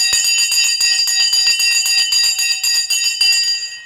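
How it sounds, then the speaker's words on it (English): A stock market closing bell rings in a rapid, continuous metallic clang that stays loud and steady for several seconds, heard alone without talk. "The bell has gone for Virgin Galactic and basically any other stock that exists on the stock market."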